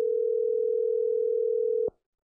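A steady telephone dial tone sounds while a phone call is being connected, holding one unbroken pitch for nearly two seconds before cutting off abruptly into silence.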